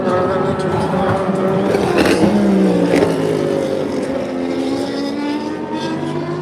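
Race cars at Daytona International Speedway drone loudly and continuously, their engines whining with shifting pitch as cars pass, with faint crowd or ambient noise underneath.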